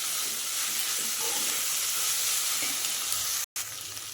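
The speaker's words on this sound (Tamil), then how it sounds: "வெங்காயம் வதங்கிடுச்சு." Onions with ginger, garlic and fennel sauté in a pan with a steady close sizzle and faint stirring, cut by a sudden brief gap near the end.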